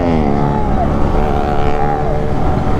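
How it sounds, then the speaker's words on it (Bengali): A car cruising in fifth gear on a highway near Dankuni toll plaza, a loud steady engine drone with road rumble heard from inside the cabin, continuous throughout. "আর আমি একটা গিয়ারেই গাড়ি চালাচ্ছি, বুঝলে, ফিফথ গিয়ারেই গাড়ি চালাচ্ছি"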